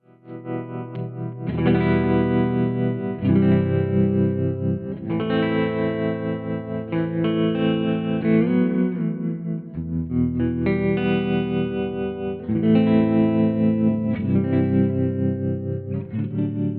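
Distorted electric guitar chords played through a Fender-style photocell tremolo effect, with a pulsing, wavering volume, loud and sustained, with no voices.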